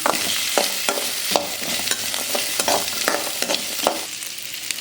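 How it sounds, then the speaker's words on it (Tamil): Ginger and coconut sautéing in a pan for a chutney, a steady broadband sizzle broken by repeated sharp scrapes and clacks of a spatula stirring, close and fairly loud with no voices. "இஞ்சியும் தேங்காய் பார்த்தீங்கன்னா நல்லா வதக்கணும்."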